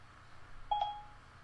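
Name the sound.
Siri activation beeping on an iOS device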